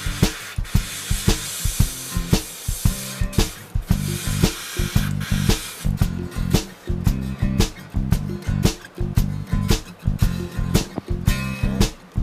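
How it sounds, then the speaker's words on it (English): Short hissing bursts from a can of sealer spraying onto a redfish skin mount repeat in a quick, uneven rhythm, close and fairly loud, with brief pauses between sprays. "Spray that color down there."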